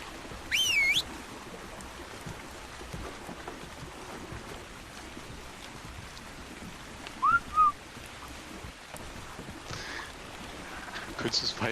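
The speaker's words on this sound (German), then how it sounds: "Hast du jetzt wirklich gerade gepfiffen" Whistle command in Ark: Survival Evolved sounds as two short tonal bursts: a wavering high whistle near the start and a shorter pair of chirps later, over a steady hiss of rain-like ambience.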